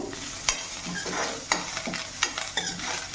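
Fresh curry leaves crackle and sizzle in hot oil for a sesame-peanut tomato chutney, with a steady frying hiss broken by sharp pops and the scrape of stirring, close and without talk.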